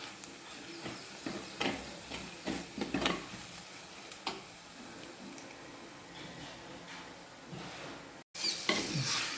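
A spoon stirs masala in a frying pan for fish roast, giving soft scraping strokes and light sizzling, with a few sharper knocks against the pan in irregular bursts, fairly quiet throughout.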